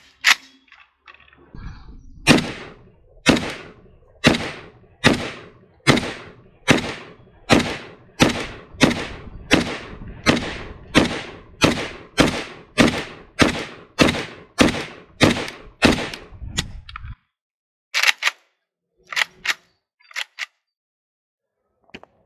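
An AK rifle fitted with an enhanced trigger fires about twenty sharp, evenly spaced shots in a steady rhythm, followed after a pause by a few scattered clicks and thumps.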